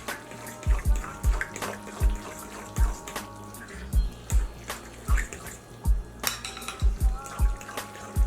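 Cornbread dressing with green onions is stirred in a bowl, giving a regular series of wet, thudding scrapes about twice a second, close and fairly loud, with no talking.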